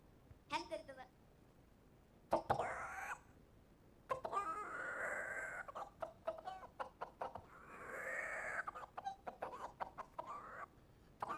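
A comedian's voice imitates a rooster calling a hen, producing bursts of clucking and crowing-like calls separated by short pauses, loud and close, with the performer's talk mixed in between.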